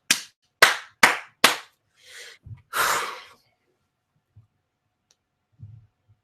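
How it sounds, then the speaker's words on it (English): A few sharp hand claps in quick succession, close and fairly loud, followed by a breathy burst and a couple of soft low thumps, then quiet. A single person clapping rather than a crowd. "Let me get that early round of applause."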